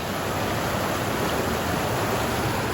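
Corral Creek running at a low level alongside a trail near Douglas Lake beyond Banff, a steady close rushing hiss of flowing water with nothing else over it.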